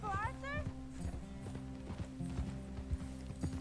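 Horse hooves clip-clopping at a steady walking pace, mid-distance and moderately loud, with a brief whinny near the start and a person talking over the hoofbeats.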